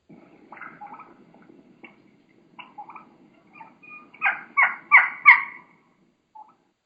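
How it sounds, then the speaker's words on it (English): Wild turkey hen calls: a series of high, sharp keeks, starting sparse and soft, then building into louder repeated bursts before fading, in a quiet outdoor setting. "She's going to be doing quite a bit of keeking, some high pitch sounds"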